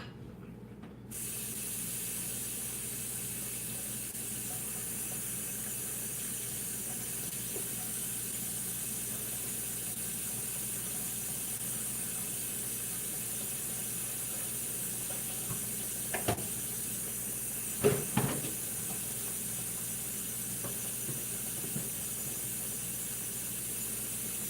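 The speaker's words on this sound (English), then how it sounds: "I'm actually going to rinse one of these bowls out" A bowl rinsed under a running kitchen tap, with a steady broad hiss of flowing water throughout and a couple of brief splashes and knocks near the end, close by.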